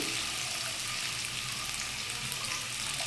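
Cut potatoes sautéing with salt in a pan give a steady, soft frying hiss that runs evenly and fairly quietly throughout, with no talk.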